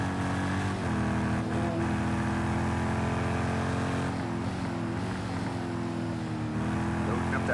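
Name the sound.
race car engine accelerating, from a racing video game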